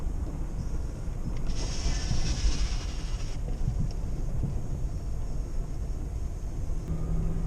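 Lexus GX460 with a V8 engine drives over sand dunes, giving a steady loud rumble mixed with wind buffeting across the whole stretch.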